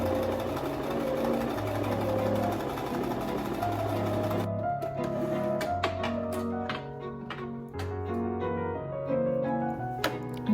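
A sewing machine runs straight lines of stitching into self-drafted shorts. A close, continuous motor whir shifts pitch as the speed changes, then breaks into shorter bursts with small clicks, with no talking.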